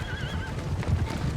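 Cavalry horses in Empire Total War, the video game, whinny once, close and clear, over a low rumble of hooves and battle noise.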